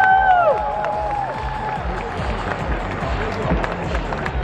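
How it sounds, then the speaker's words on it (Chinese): Stadium crowd at a baseball game applauding the MVP, a dense steady wash of clapping and cheering held at an even level, with a stadium announcer's voice heard near the start. "再给子恩掌声鼓励"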